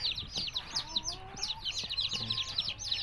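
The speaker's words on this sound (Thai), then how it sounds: "นี่ฮะลูกไก่ของเรานะครับ" A crowd of newly hatched baby chicks, just taken from an incubator, cheeps constantly in dense, high-pitched peeps, close and busy, with faint background sounds underneath.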